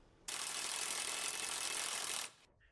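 A nut being run onto a sway bar link bolt on an Acura MDX with a power tool, a single continuous close mechanical whir lasting about two seconds, starting and stopping abruptly.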